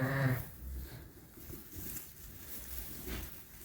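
A Suffolk ewe on a farm gives a short, loud bleat at the start, followed by quieter rustling and shuffling.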